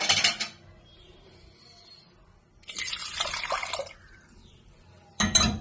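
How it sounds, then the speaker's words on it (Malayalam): Ground masala paste being poured into an empty clay pot for a traditional fish curry: a short wet splatter, a longer sloshing pour, then another brief burst, with quiet gaps in between. "നമുക്ക് ഈ അരപ്പ് ഈ കാലി ചട്ടിയിലേക്ക് ഒഴിച്ചു."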